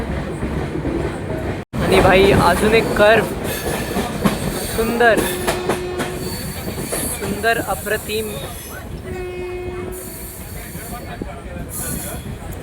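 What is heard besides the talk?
train running on rails, horn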